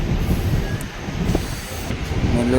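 Passenger train rolling between Katpadi and Tiruvannamalai, heard from on board as a steady low rumble of wheels and carriage noise with faint metallic squeals, continuous and fairly loud.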